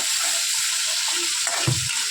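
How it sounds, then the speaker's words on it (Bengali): Onions fry in oil in a pan and are stirred, a steady close sizzle with a brief scraping stir near the end. "পেঁয়াজগুলো দিয়ে ভালো করে এবার নেড়ে নেব"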